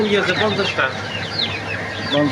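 Native chickens cluck in a poultry farm, a few short calls close by over a steady background, with people talking nearby.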